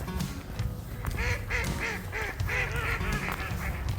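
Ducks on a partly thawed winter pond in Edmonton on a January evening, quacking and honking loudly in repeated overlapping calls, with splashing and wing-flapping in the water, close by and without talk.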